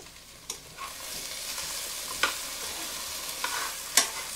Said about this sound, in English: Stir it up. Let the seasoning stir on everything.